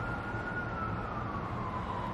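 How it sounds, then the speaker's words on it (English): A distant emergency siren wails steadily, its pitch slowly falling, over a constant low rumble of background noise. "a siren goes off, like a fire truck, police car, something"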